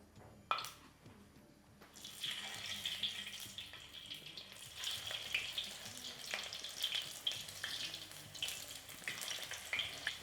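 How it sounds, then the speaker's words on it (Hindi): Snacks fry in hot oil in a kadhai, a soft, steady sizzle and crackle heard close but quiet, swelling after a brief clatter at the start. "अब थोड़ा तेल और डाल लूँ और वह स्नैक्स फ्राई कर ला।"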